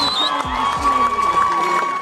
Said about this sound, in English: as you can hear from the crowd's reaction